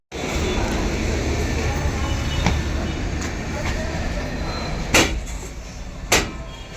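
Inside a moving Indian express train hauled by a WAG9 locomotive: a steady, loud rumble of the coach rolling along, with a couple of sharp knocks or door clunks near the end.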